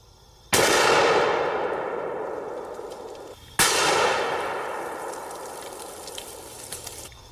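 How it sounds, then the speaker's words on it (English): Two very loud, sharp gunshots from a .500 Smith & Wesson Magnum loaded with 500-grain jacketed lead flat-nose rounds, striking concrete about three seconds apart, each with a long ringing decay. "let's hit it with the 500 Smith & Wesson Magnum"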